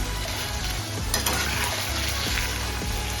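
Prawns sear for a few seconds per side in a hot pan, a dense, close sizzle and crackle filling the whole stretch, with soft stirring scrapes and no talk.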